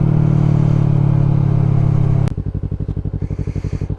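A Yamaha MT-03 stunt motorcycle rumbles loud and close with a steady droning engine note, then the note drops abruptly to a rapid, pulsing idle-like putter.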